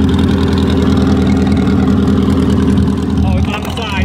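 A 1954 Italian car with a V8 and side exhaust idles at a Greenwich car show, a loud, steady, throbbing rumble that eases slightly near the end, with faint voices around it.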